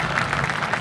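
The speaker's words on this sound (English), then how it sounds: "Give them a big round of applause for that most difficult maneuver." Applause from an air show crowd after an aerobatic maneuver by a stunt plane team, a steady broad wash of clapping that holds at even loudness for under a second.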